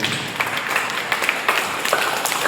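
Children at a camp clap together, a moderately loud patter of hand claps with uneven irregular peaks, heard close and without talk over it.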